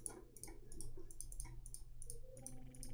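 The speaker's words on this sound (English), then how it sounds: "I'm clicking too early?" Computer mouse clicking during an aim trainer game, a quick irregular series of sharp close clicks at a steady pace with a low background hum.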